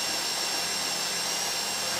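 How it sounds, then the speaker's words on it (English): Steady whirring of a drill during a heist in Grand Theft Auto V, a constant even hiss-like mechanical drone with no breaks, moderately loud and alone. "That drill got another gear?"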